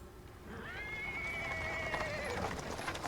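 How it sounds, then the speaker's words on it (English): A horse neighs loudly in a drawn-out whinny while a cart rolls over paving stones, hooves and wheels rattling steadily underneath at moderate volume. "He is interrupted by the sound of wheels on the paving stones. A cart drawn by a sad little horse appears from around the corner."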